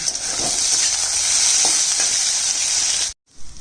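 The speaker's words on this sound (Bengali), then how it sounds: "আর এখানে আলুটা ভেজে নিচ্ছি।" Loud, steady sizzling of potatoes frying in hot oil, continuous and close, briefly cutting out near the end.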